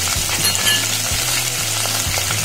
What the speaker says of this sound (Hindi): अब हम सारे मसाले ऐड करेंगे, दालचीनी, जावित्री, बड़ी इलायची, छोटी इलायची, जीरा और काली मिर्च